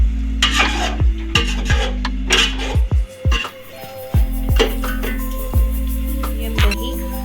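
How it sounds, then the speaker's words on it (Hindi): A spoon stirs Hyderabadi yakhni pulao masala with softened potatoes, tomatoes and tamarind in a pot, scraping and clinking against the metal in repeated strokes, with a faint sizzle underneath. "अब मैं इसे मिक्स कर दूँगी।"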